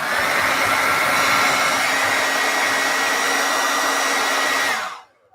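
A hair dryer blows steadily to heat and soften plastiline modelling clay, a loud, even whir with no voices that cuts off abruptly near the end.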